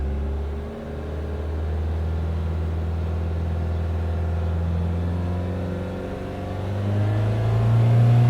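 Small engine revving steadily in second gear of a short gearbox, a sustained buzzing drone with harmonics that dip briefly and then climb higher toward the end, heard alone without talk.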